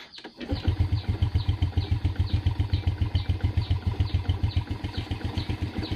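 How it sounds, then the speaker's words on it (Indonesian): A Yamaha Jupiter Z motorcycle, running without a battery after an ignition fault, starts up and then settles into a close, steady idle with a rapid, even putter of engine pulses. "Jadi motornya sudah hidup, strumnya sudah normal ya."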